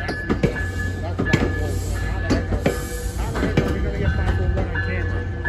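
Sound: train passing

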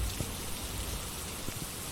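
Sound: rain falling in the video game Phasmophobia

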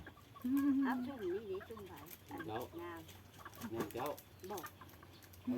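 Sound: chicken clucking

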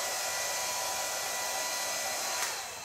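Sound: hair dryer drying hair

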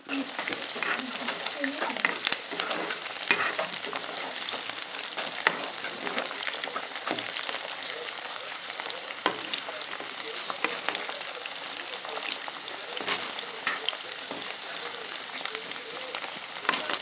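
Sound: ivy gourds frying in a pan

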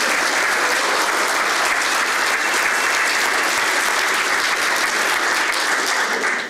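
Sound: audience applause for former professor Conrad

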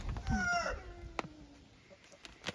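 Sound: chickens clucking in a coop

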